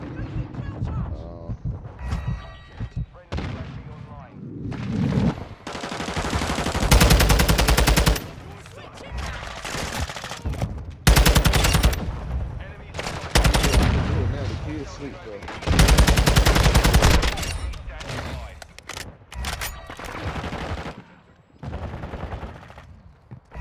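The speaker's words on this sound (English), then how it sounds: "I hear shots to the left up this hill" Gunfire in the shooting video game Call of Duty: Modern Warfare II, with repeated loud bursts of automatic and single shots across a shoot house match, while players talk over much of the action.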